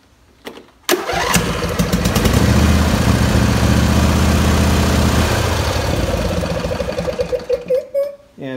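A 2007 Husqvarna engine that had sat outside cranks and catches about a second in, runs loud and steady for several seconds, then sputters unevenly and cuts out near the end; no one speaks.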